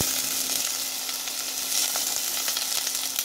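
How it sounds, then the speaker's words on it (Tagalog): Ginger, garlic and onion sizzle and crackle loudly in a wok over high heat, a dense continuous fry with faint stirring underneath and no talking. "Add marinade ingredients to walk. Fry on high heat."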